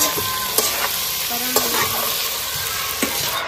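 Tomatoes frying in a pan give off a steady, loud sizzle, broken by a few sharp scrapes and clicks of a utensil stirring them up close.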